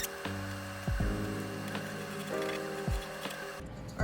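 A sewing machine stitches through layers of pinned fabric, cotton batting and plasticky lining. It makes a quiet, mechanical whirr with regular ticking and a few soft thumps, stopping near the end.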